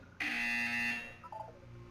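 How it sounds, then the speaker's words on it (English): In the Portal 2 video game, a single harsh buzzer sounds for just under a second, followed by a short descending electronic tone. "You will hear a buzzer. When you hear the buzzer, look up at the ceiling"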